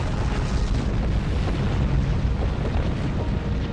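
Starship weapons fire and explosions in the Star Trek Online space battle against Klingon vessels, a continuous loud rumbling barrage of booms and blasts with no clear gaps throughout.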